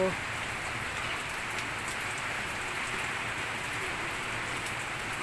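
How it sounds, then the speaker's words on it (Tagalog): Moderate, unbroken rain pours steadily outdoors, a constant broad hiss of drops on surfaces without pauses. "hindi naman siya malakas pero"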